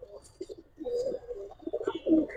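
Pigeons, including Giribaz, racer and fancy breeds, coo in a few soft, throaty rolling phrases close by, with faint chirps and a little background noise.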